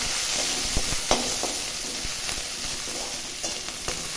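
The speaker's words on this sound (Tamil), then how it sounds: "இதுலேயே நம்ம குடமிளகாயும் நல்லா வதக்கி எடுத்துக்கலாம்" Capsicum sautéing in a dry pan without added oil for bread chilli, giving a steady close sizzle with a few scattered scrapes and taps of a spatula.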